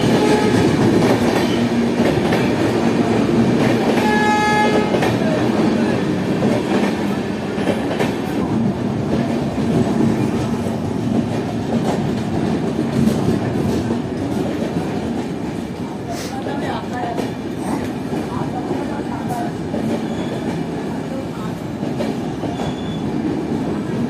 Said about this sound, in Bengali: আমাদের ট্রেন ঢুকে গেল এখন রামপুর জংশনের 2 নম্বর প্ল্যাটফর্মে